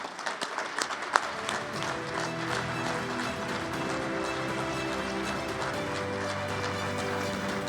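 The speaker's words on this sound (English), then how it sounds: "with your applause, please help me welcome Dewayne Staats into the St. Louis Sports Hall of Fame" Applause greets Dewayne Staats at his St. Louis Sports Hall of Fame induction, a few scattered claps that swell into steady, moderately distant clapping from the crowd, with music playing underneath.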